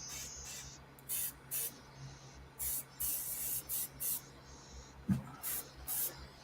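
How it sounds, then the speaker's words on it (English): An airbrush sprays out paint in short, repeated hissing bursts, each lasting about half a second, close and fairly quiet with brief pauses between them. "I just want to get this color out of my airbrush"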